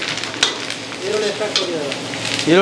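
Curry leaves and onion hit hot oil for a military-hotel-style pork fry, giving a loud, steady close sizzle with crackling spits and a few brief whistly tones near the end.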